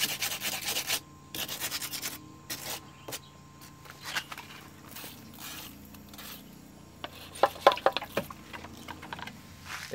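Soft, steady rubbing and scratching of sandpaper over a filled refrigerator body, repeated strokes at close range, fairly quiet.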